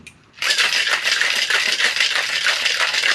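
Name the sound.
ice rattling in a cocktail shaker being shaken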